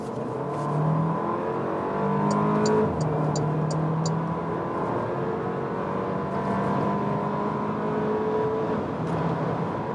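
A 2020 Porsche Macan with a four-cylinder engine pulls hard on a motorway, heard from inside the cabin as a steady, rising engine drone under road and wind noise.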